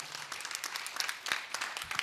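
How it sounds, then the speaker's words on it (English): An audience at the closing of a food systems pavilion claps for partner organizations, a short burst of scattered, crisp handclaps of moderate loudness with no voices. "I would like to ask you for a round of applause for all these organizations."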